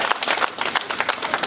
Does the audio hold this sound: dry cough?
no